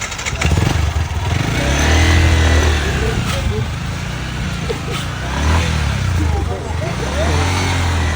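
A motorcycle ridden on a burst tyre in Vietnam's mountains, its engine droning and rising and falling with throttle over several seconds, fairly close, with wind noise and someone talking over it.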